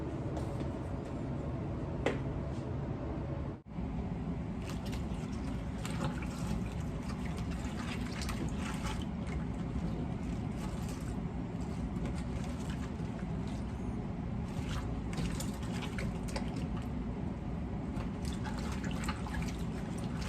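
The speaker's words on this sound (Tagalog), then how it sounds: "Babad ko lang sa tubig" Pechay soaking in a basin of water, with steady close splashing, dripping and trickling as the leaves are swished and washed, continuous and without talk.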